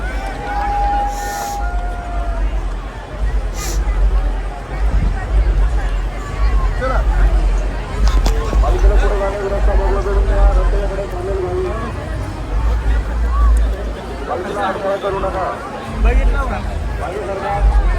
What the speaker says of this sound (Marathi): इथं खूप गर्दी, चौबाजूने खूप गर्दी झाली आहे इथे.